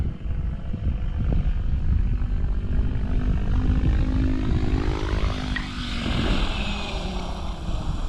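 A model helicopter's motor idles during F3C-style autorotation practice along a flight line, a steady airborne whir and buzz at moderate distance that shifts in pitch as the craft turns.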